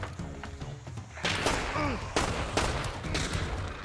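Gunfire in the video game Hunt: Showdown, several sharp shots cracking in quick succession over a few seconds, fairly loud, with game background sounds beneath.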